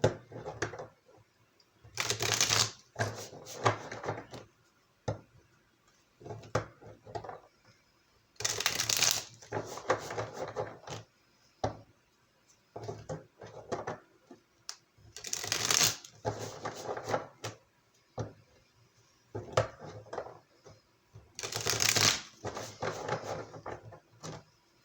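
Tarot cards being shuffled by hand, four loud riffling bursts a few seconds apart with quieter card handling and tapping in between, close up and without speech.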